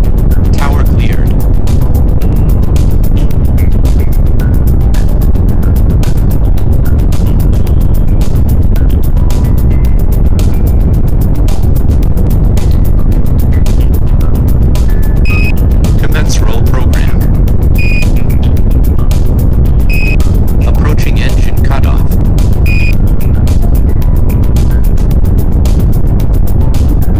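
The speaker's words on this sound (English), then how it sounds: "5, 4, 3, and liftoff. 1, liftoff." A rocket lifts off and climbs, a loud, continuous roar with a crackling edge that fills the whole half-minute, while radio voices call out over it.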